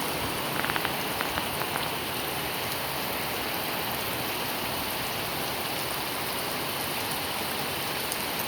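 Heavy rain in Laos pours down in a dense, constant hiss of drops hitting surfaces, steady and loud from start to finish with no voices.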